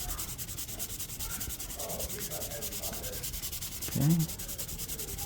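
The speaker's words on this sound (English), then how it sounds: "this is 320 sandpaper, so it's quite fine. And I'm just gonna give this a nice little smooth over." Fine 320 grit sandpaper rubbed by hand over a waxed surface, a steady soft scratchy rasp with even back-and-forth strokes; a brief word is spoken near the end.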